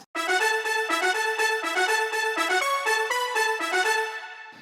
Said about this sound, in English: So this one is another Nexus layer, and it is called BR Brass Strings